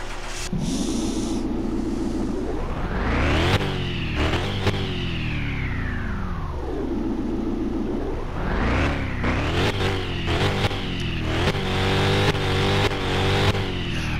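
A powerful 1,400-horsepower car engine in a video game, Car Mechanic Simulator 2021, revs repeatedly, pitch climbing sharply then dropping back to a rumbling idle, loud and close, with turbo-like whooshes between pulls.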